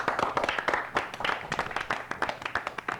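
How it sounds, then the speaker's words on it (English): A quiz show team applauds themselves, a dense burst of close, energetic hand clapping from a small group, steady and unbroken throughout. "Give yourselves a round of applause"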